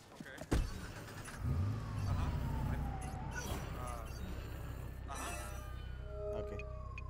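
A truck engine in the Watch Dogs 2 video game hums steadily at moderate level, with a rising and falling siren-like tone passing through and a sharp knock near the start.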